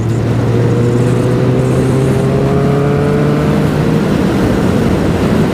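A Kawasaki Ninja ZX11 motorcycle engine running loud and steady with rising pitch as it revs up after a spark plug service, a continuous close whine with no talking.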